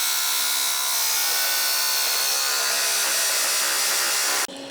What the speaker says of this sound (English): Now we're gonna cut it out with jigsaw.